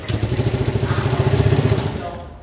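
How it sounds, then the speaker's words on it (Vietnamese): A Honda Air Blade, Vision or Vario scooter idles after its SCU smartkey unit was replaced, the engine chugging in a steady, fast pulsing rhythm up close before the sound fades out. "Cái xe ta đang nổ ngon lành mà."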